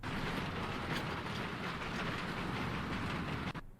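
An amusement park train ride rumbles past with steady clattering wheels on track, a loud continuous rolling roar that holds for several seconds before ending suddenly.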